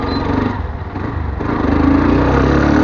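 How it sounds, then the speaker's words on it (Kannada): A motorcycle engine labors up a hill on a cement road, a steady buzzing drone that dips briefly then swells louder as it revs, close and alone without speech. "ಬೈಕ್ ತಗೊಂಡು ಹತ್ತಿತಾ ಇದ್ವಿ."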